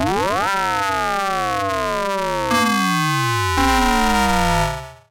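Synthesized tones from a Cherry Audio GX-80, a CS-80 style 1970s polysynth emulation, sweep up and down in crisscrossing pitch bends, a dense wavering chord that shifts twice before fading out.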